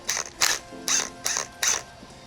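Ratchet wrench loosening the 10 mm timing tensioner bolt on a Nissan KA24DE engine: five short, bright clicking bursts in an even rhythm, close and moderately loud, with no talk.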